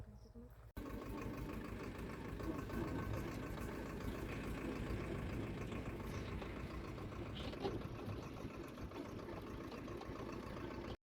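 A tractor engine runs with a steady, low, muffled rumble that starts abruptly after a brief quiet moment and continues evenly and fairly faint throughout.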